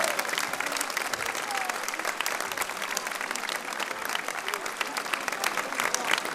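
An audience at the Hestiv'Òc festival gives dense, sustained applause, a continuous crackle of many hands clapping with no pause, with faint voices underneath.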